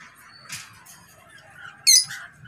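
A violet blue lovebird in a breeding setup gives a sharp, brief squawk near the end, after faint chirps and soft chatter in a quiet room.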